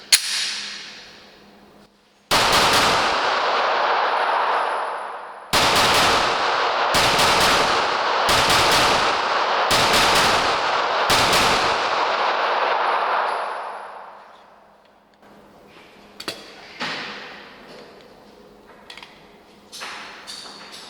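A Glock G45 MOS pistol fires rapid strings of shots: a burst of sharp, loud reports, then a series of quick grouped volleys with short gaps between them, and scattered fainter shots in the distance afterward.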